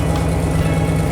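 A truck engine starting up after an oil change and settling into a steady, loud idle, with a low continuous hum close to the microphone and no break throughout.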